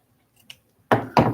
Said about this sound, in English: I'm going to cut this kind of at an arch